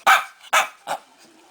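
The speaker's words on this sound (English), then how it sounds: "What a cute dog." A small excited dog lets out three sharp barks, each quicker and softer than the last, close to the microphone after a round of trick commands.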